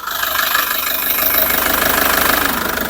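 A KG Mobility (SsangYong) Rexton Sports Khan 2.2-litre diesel pickup with the hood open idles close by with a steady, rapid knocking rumble, even and unbroken throughout.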